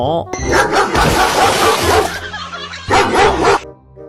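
A dog barks in loud, close bursts, a sharp yelp followed by sustained rough barking, a short pause, then another run of barks before it trails off.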